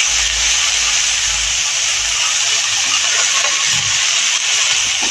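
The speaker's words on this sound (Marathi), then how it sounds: "त्या खमंग फोडणीवर आपण अळू फोडणीला टाकणार आहोत, बारीक चिरून घेतलेलं." Finely chopped colocasia leaves hit hot tempering in a pan, giving a steady, loud sizzling hiss that continues without pause.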